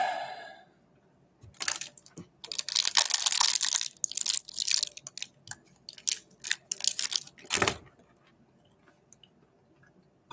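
Close, crunchy chewing comes in irregular bursts of bites and crushing over several seconds, loud and dry, with quiet pauses between clusters.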